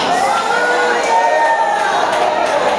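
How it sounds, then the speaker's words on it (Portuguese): A church congregation shouts cheers of glory together, a loud sustained mass of raised voices and whoops with overlapping shouted tones, no single speaker standing out. "Levanta a mão no céu e dá um grito de glória."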